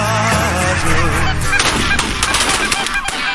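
Wild geese honk loudly and close, a dense overlapping chorus of nasal calls that carries on throughout.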